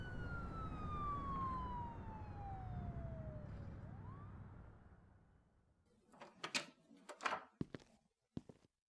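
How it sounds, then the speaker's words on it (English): Police sirens in an audio drama sound effect wail in a long descending sweep that fades, then gives way to a few sharp knocks and clatters near the end, with no talk. "the sound of police sirens approaches the area."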